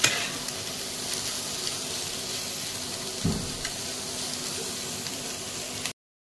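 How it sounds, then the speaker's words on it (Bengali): Chopped onion sautés with paneer in a pan, giving a loud, continuous sizzle. A brief stirring knock comes midway, then the sound cuts off abruptly near the end. "অনিয়নটা আমি পনিরের সাথে হালকা করে একটু সটে করব।"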